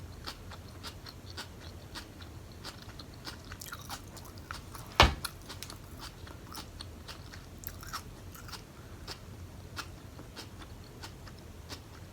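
Crunchy celery chewed close to the mic in a steady run of crisp bites and wet crunches, one sharper snap midway, with soft background hiss throughout.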